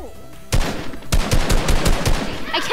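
Video game gunfire, loud rapid bursts of shots starting abruptly after a quiet moment, rattling off in a quick irregular volley like automatic fire.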